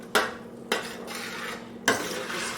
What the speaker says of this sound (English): Just going to mix that until it's all blended